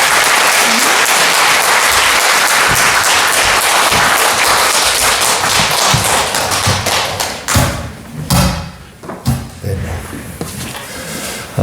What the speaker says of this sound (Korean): 목사님 나오실 때 뜨겁게 박수로 환영해 드리겠습니다